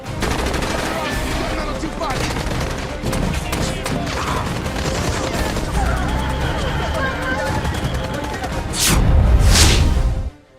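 Gunfire from the terrorist attack on tourists in Pahalgam's Baisaran valley in Kashmir, heard as dense, continuous bursts of shots that grow louder near the end before cutting off.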